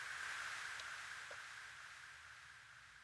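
On an AlphaTheta DDJ-FLX2 DJ controller, a steady wash of white noise with an echo effect slowly fades. It sounds as a continuous hiss that gradually gets quieter, with no voice.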